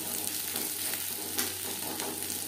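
Garlic sizzling steadily in oil in a pan as it is stirred, a close, even crackle with small scraping bursts from the stirring.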